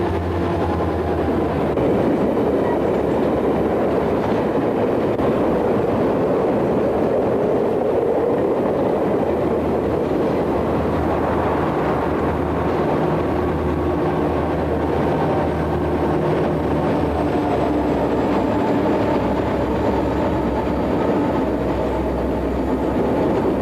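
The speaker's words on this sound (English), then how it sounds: "A quadruple SD60 powered northbound rolls into the cut near Landrum." A northbound freight train powered by four SD60 diesel locomotives, two leading and two at mid-train, rolls through a cut near Landrum with a steady, loud low engine rumble and continuous rail noise, close by and without a break.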